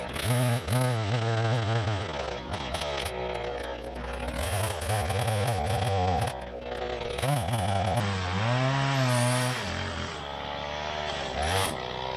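A chainsaw cuts through a fallen white oak log in the woods, loud and close, its engine revving up and bogging down through the cut, then revving again before easing off.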